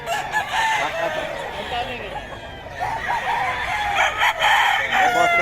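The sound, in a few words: gamecock roosters crowing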